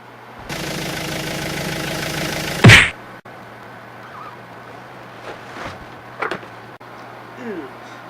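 A vehicle engine accelerates in the Windows 98 computer game Amazon Trail 3rd Edition: a steady, buzzing engine drone lasts a couple of seconds, ends in a brief louder burst and cuts off, followed by faint scattered sounds.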